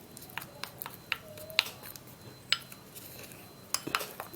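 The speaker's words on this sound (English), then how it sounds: "So now I will just have to mix it and mix it really good." A utensil stirs a hot mixture in a bowl, producing scattered light clinks and taps against the sides at an irregular pace, fairly close but quiet.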